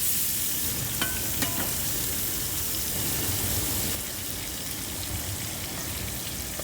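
Shrimp seasoned with salt and pepper sizzle steadily on a grill, a continuous broadband hiss with a few faint clicks, fairly quiet and without talk.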